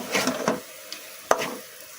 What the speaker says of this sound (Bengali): এখন শুধু নেড়ে চেড়ে উল্টিয়ে পাল্টিয়ে একেবারে নামিয়ে ফেলবো